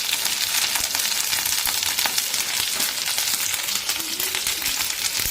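Onions with garlic, curry leaves and coriander seeds frying in a pan until brown, a dense continuous sizzle with crackling pops, close and loud, with no voices.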